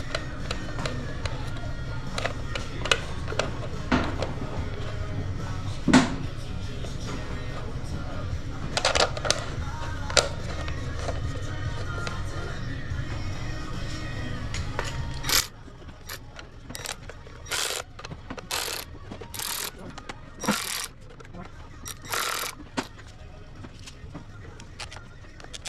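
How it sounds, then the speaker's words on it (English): A speed ratchet clicks on the flywheel weight bolts of a 2022 KTM 125SX, giving sharp intermittent ticking bursts that become clearer and more rapid in the second half over a low background hum. "we'll throw our speed ratchet on here"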